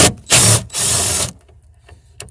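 A power ratchet or impact driver works 10 mm bolts on the tail light of a 2012 Ford Fusion, giving two loud close whirring bursts, the second longer, followed by faint clicks.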